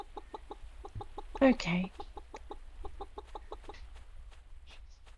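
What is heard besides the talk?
chicken clucking in the video game Pumpkin Days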